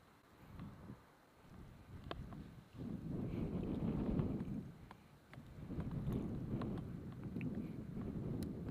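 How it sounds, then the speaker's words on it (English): Persistent morning wind outdoors in Hawaii near the erupting Kilauea, rising and falling in long rumbling gusts against the microphone, with faint ticks and clicks scattered through. "The wind just does not want to give up this morning, does it? Relentless."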